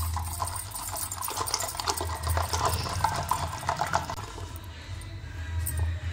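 Yogurt churned with a wooden churner in a small clay pot makes a steady, rapid wet sloshing and knocking that runs without pause close by, with no one talking.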